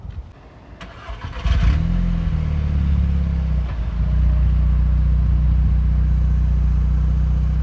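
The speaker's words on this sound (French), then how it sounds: "on vous fait écouter le son du moteur." A Volkswagen Golf 6 R starts up close by with a brief crank and catch, then settles into a smooth, steady idle with a deep, even hum.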